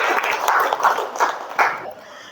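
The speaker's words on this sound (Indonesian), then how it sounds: "Beri tepuk tangan sekali lagi." A high school class in Indonesia gives a short burst of clapping in rhythmic waves of claps, close and moderately loud, fading out after about two seconds.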